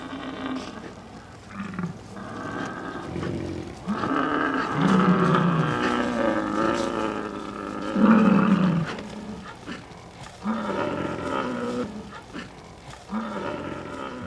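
A herd of bison bellowing with raspy, drawn-out roars, several overlapping calls rising and falling in long bursts, fairly close and loud, with no talking.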